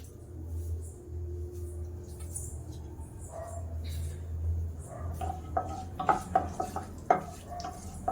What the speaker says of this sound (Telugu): చాలా చిట్పట్లు ఆడుతుంది ఆవాలు అవిని